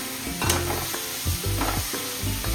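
Salted bombil (Bombay duck) fish frying in hot oil with garam masala, a steady sizzle broken by spoon scrapes and stirring knocks in the pan, with no talking.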